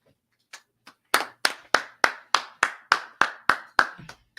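A small group claps in unison at an I.S.U.P.K. San Antonio class: two tentative claps, then about ten sharp, evenly spaced claps in a steady rhythm, close and clear with no talk.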